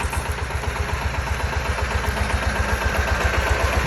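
A Skaut 220V mini tractor engine runs steadily while pulling a disc harrow through waist-high weeds, its close, loud, rapid pulsing chug holding an even rhythm throughout.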